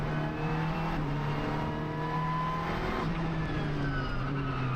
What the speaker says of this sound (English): and the engine fires back up again